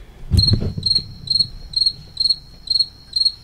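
A cricket chirps in regular pulsed bursts, roughly two per second, clear and fairly close after a brief low thump at the start, with no talking.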